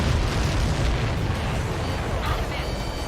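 An enemy transport explodes in the Ace Combat 7 video game, with a dense, loud, continuous roar of blasts and rumbling over the full stretch, with no pauses.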